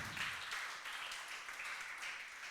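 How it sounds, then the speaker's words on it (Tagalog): A church congregation at a Sunday service in Cubao claps together in praise, a faint, sustained wash of applause that goes on steadily without a break. "Pwede po bang bigyan natin ng isang malakas na palakpak ang ating Panginoon?"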